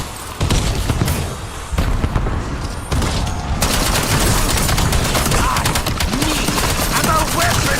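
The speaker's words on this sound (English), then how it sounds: "Throwing frag." Loud, dense video game gunfire rattling continuously with heavy bursts and booms from a thrown frag grenade exploding amid the firefight, close and sustained throughout.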